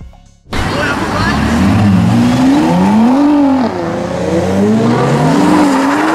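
A rally car's engine roars loudly with wavering tire squeal as it slides in oversteer, close and continuous, while a voice talks over it.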